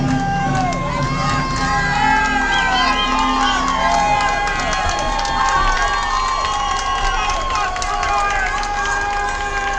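A baseball crowd at a minor-league game in Elmira cheers for the bat boy, a sustained roar of shouts and whistles with children's voices mixed in, loud and continuous throughout.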